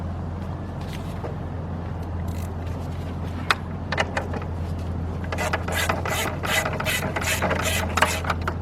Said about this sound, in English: Let's just get those bolts off of there so we can take that cover off.